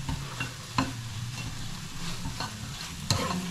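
Scrambled eggs with onion sizzle steadily in a frying pan, with a few sharp scrapes and clinks as a utensil stirs them at close range; no one speaks.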